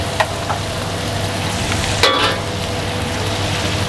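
About a kilo of onion with garlic fries in a hot pan, giving a steady, close sizzle throughout, with a couple of light clinks early on and a brief scraping stir near the middle.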